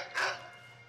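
A single short dog bark in Skyrim, close and fairly loud, rising out of a low steady background hum and fading quickly.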